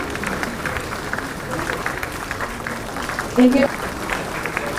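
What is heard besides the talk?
audience applause at appointment letter ceremony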